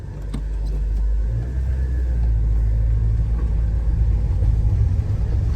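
A Nissan Micra K11 drives along a road, its engine and tyre rumble steady and close throughout, with no talking.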